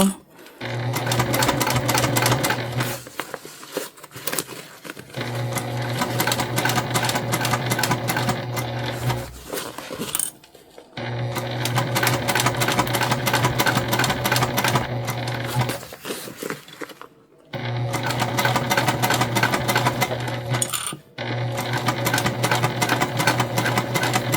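A sewing machine stitches fabric for a bum bag in loud, close, rapid mechanical runs of several seconds each, separated by short pauses.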